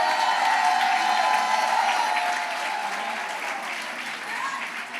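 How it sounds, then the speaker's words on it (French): Church congregation clapping and shouting during a worship service, a loud continuous wash of applause and voices that slowly eases off, with some speech mixed into the crowd noise. "Applaudissez, criez."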